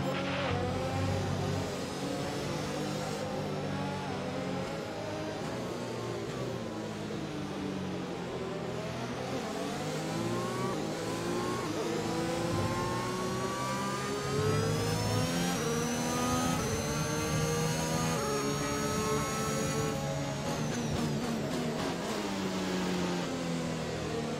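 A race car engine in a racing game revs steadily through the gears for the whole stretch, pitch climbing and dropping in long sweeps as the car is warmed up on track, loud and continuous with no talk.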